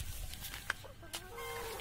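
Two black hens clucking in a backyard flock, a few soft short clucks and a brief higher call over faint background noise, no talk.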